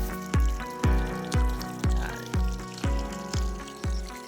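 Water sprays across a papaya farm in rhythmic pulsing bursts about twice a second, carried over a steady mechanical hum.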